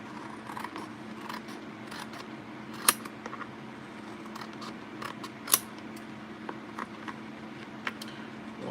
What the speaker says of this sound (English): I do need to trim just slightly